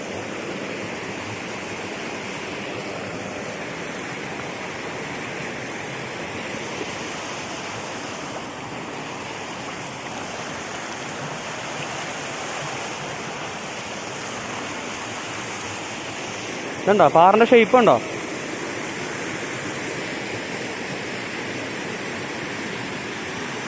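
Orappankettu waterfall at Peechi, Thrissur, pours in a steady, even rushing roar that fills the whole stretch, with a short burst of nearby talk breaking in near the end.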